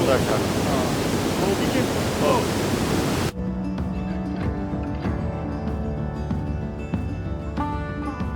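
Fast-flowing river water on a cold-weather hike, a loud, dense roar of rushing current that cuts off abruptly partway through, leaving quieter background sound with faint tonal hum and scattered knocks.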